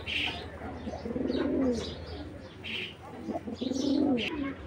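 Girbaz tumbler pigeons from a tournament-grade collection give repeated low, throaty cooing in a steady, fairly close series, with occasional higher chirps mixed in.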